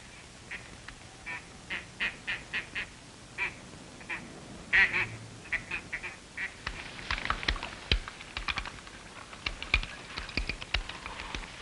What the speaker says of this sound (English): Give me that duck call.